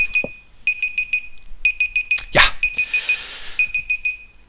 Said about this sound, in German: Das war der Timer für meine Wäsche.